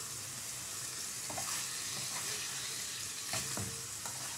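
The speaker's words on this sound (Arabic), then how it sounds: "بصوا بحمرها" Meat sizzles and crackles steadily in a little ghee in a pan, a constant frying hiss with occasional stirring scrapes and clinks.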